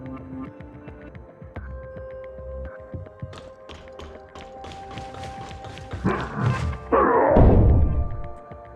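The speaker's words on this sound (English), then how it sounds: "It sounds like someone's banging on the door." Someone bangs on a door in a video game: a string of hard knocks and thumps, building to heavier, louder blows toward the end, with no speech.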